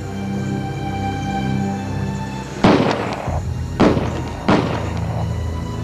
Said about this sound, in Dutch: 3 schoten werden afgevuurd.